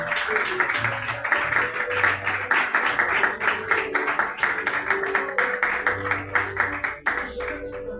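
A church congregation at a healing and deliverance service claps together in steady rhythmic applause, an even stream of hand claps lasting several seconds, with voices and low background sound underneath.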